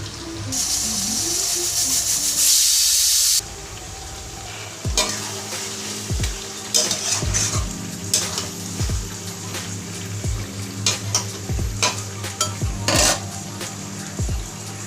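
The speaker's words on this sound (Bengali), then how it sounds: "এখন এই মশলাটা আমি গুঁড়ো করে নেব।" Spices for chicken biryani are ground in a short, loud burst of whirring lasting about three seconds, followed by scattered clinks and scrapes of utensils against metal.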